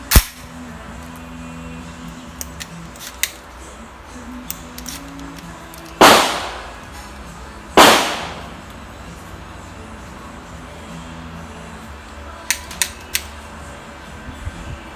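Shotgun firing nine-pellet buckshot, two loud booming shots about two seconds apart near the middle, each with a fading tail, among faint clicks and handling noise and no talk.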